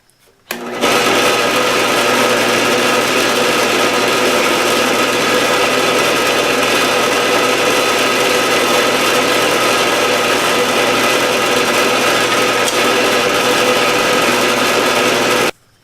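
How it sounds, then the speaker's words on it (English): A drill press runs a bit into a guitar bridge for a Martin D-35 with a steady, loud motor whine and grinding hum that starts abruptly and holds evenly for about fifteen seconds before stopping. "what I'm doing here is I'm also letting that drill bit settle into the hole"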